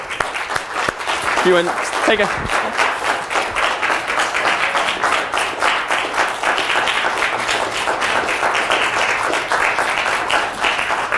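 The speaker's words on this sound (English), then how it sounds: "if you would indulge me with a round of applause for these four" A lecture audience at Harvard Extension School's CSCI E-1 course applauds four teaching fellows. Someone speaks briefly over it, then sustained, crisp clapping from many hands builds and continues steadily to the end.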